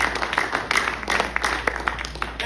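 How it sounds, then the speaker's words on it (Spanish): A church congregation claps together in a loose rhythmic pattern, moderately loud claps from many hands repeating steadily throughout. "Alguien puede dar un aplauso fuerte."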